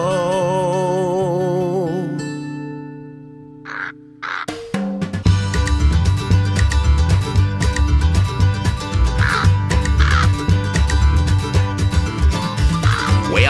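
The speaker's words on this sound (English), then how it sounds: "Well, Christmas Crow is stable bound to see the newborn king" Harsh crow caws ring out several times at intervals over a loud, full musical backing in a novelty Christmas song, following a quieter sustained intro.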